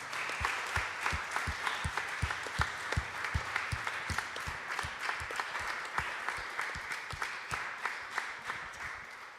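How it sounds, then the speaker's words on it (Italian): A church congregation applauds steadily during a worship service, with a regular rhythmic beat of clapping running through the whole stretch, heard at a moderate distance. "Facciamo un applauso al Signore."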